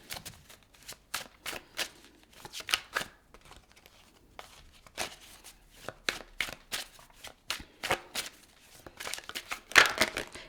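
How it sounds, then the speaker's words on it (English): Tarot cards being shuffled by hand, a close, dry flurry of rapid riffles and slaps in irregular bursts, loudest near the end, with no voices. "these cards just want to fly out"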